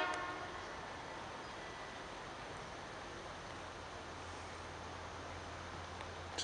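A vintage CP Rail Alco locomotive, Montreal Locomotive Works built, number 4563, creeps along in the rain, giving a steady broad rumble and hiss with a low engine drone emerging toward the end, no talk.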